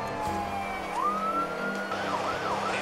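A police car siren wails continuously while the car runs code 3, its rising and falling tone loud and steady over road and engine noise, with no talking.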